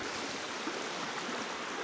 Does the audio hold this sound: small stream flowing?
yes